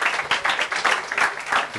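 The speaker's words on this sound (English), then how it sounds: "I think that deserves a huge round of applause." Audience applause at an interior design awards press conference, rapid rhythmic clapping from a group, fairly close and loud on its own.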